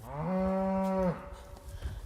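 A working beef cow in a valley lets out one long, loud, close moo of about a second, followed by quieter shuffling and low farmyard noise, with no talking.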